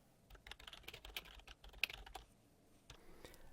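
Typing on a computer keyboard, a quiet run of irregular key clicks with a short pause near the end, close and alone without talk.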